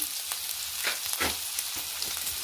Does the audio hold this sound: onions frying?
yes